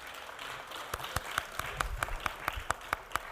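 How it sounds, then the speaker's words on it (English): Sparse applause from a research conference audience honoring award-winning researchers, a few separate hands clapping at a steady, uneven rhythm, fairly faint against a quiet room. "कृपया बाकी लोग भी उनके लिए एक बार तालियां बजाएं."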